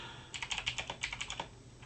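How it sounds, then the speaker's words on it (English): Fast, loud clattering of computer keyboard keys, a burst of irregular clicks typed up close for about a second and a half over a faint room hum. "your keyboard is being so loud"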